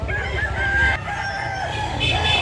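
A rooster crows at Carbon Market in Cebu, a drawn-out raspy call rising over a busy, rumbling market background, fairly close and loud.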